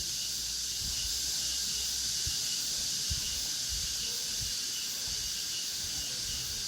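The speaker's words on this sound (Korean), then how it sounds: "너 매미 소리랑 많이 나지?" Summer cicadas by a valley stream fill the air with a continuous, loud, high-pitched drone that never lets up, while faint low thumps and splashes sound beneath it.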